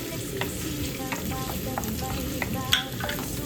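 Garlic frying in hot oil, a close steady sizzle with bursts of crackling and light utensil scrapes stirring through the pan, no voices.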